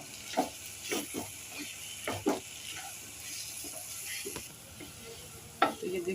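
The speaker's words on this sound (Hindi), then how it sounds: "खोए को हम भून रहे हैं" Khoya (mawa) and semolina roasting on low heat, a faint background sizzle punctuated by irregular spoon scrapes and taps against the pan, close and quiet.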